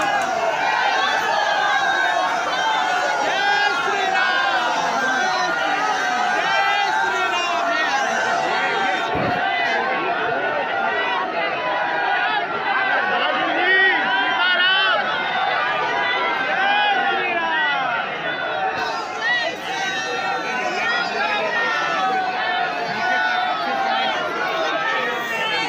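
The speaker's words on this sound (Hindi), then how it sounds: "अभी आप देख रहे हैं ये भीड़ जो है गुरुजी के दर्शन के लिए यहाँ पे भीड़ लगी हुई है" A dense crowd of devotees waiting for the guru's darshan fills the air with loud, continuous chatter and babble that carries on without a break.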